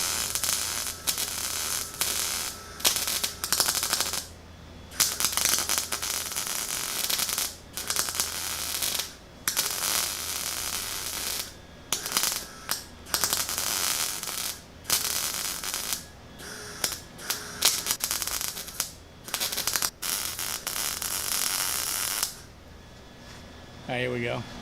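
MIG welding a vertical weld, a long steady crackling buzz with a low hum beneath, broken by several short pauses as the arc stops and restarts.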